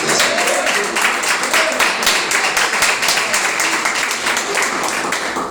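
Steady applause from a crowd, dense clapping filling the whole stretch at an even level with no pauses.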